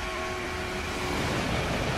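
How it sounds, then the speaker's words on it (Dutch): A train approaches in a train simulator game, a steady loud rumble of rolling wheels and engine with a faint tonal hum, swelling slightly toward the end. "Ja, daar komt de trein"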